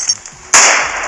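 A grenade blast in the online shooter game Trigger Fist: one sudden loud burst with a short rushing tail after a brief quiet lead-in.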